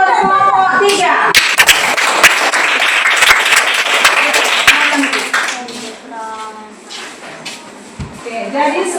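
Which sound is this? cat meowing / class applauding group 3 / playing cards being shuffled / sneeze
class applauding group 3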